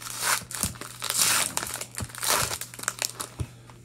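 Crinkly plastic wrapper of a hockey card pack being torn and opened, loud close crumpling and tearing in irregular bursts for several seconds, with no voices.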